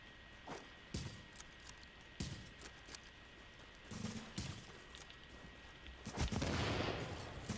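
Gunshots in the online shooter The Division: a few sharp, separate reports spaced a second or more apart, then a louder, denser burst of fire near the end.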